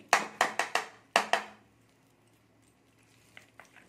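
A spoon stirs tomato chutney with added salt, giving a run of about six sharp, close scraping strokes in quick succession, then a fading tail and a few faint soft clicks.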